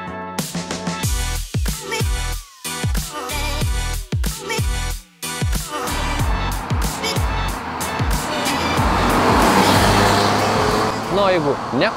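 A BMW E36 328, a sedan from the 1990s, drives past with its engine rising and falling. Sharp cuts between passes build to a sustained roar of engine and road noise. A voice talks over part of it.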